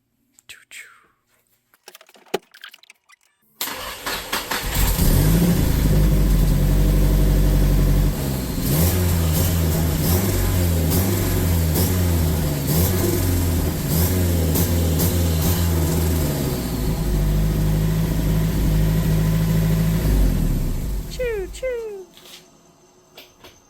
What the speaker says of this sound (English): But we should be able to hear turbo sounds.